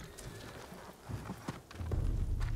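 Horse hooves clip-clop in the PS5 video game Ghost of Tsushima, a quick run of close, muffled thuds that grows louder and heavier toward the end.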